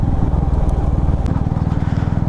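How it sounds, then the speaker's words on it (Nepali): Two motorcycles pass close by with a dense, throbbing engine rumble that stays loud and steady for a couple of seconds, with no voices heard. "वाउ दामी आउँछ क्या साउन्ड चाहिँ झन् दुईवटा बाइक जाँदा चाहिँ एकदमै आउँदो रहेछ"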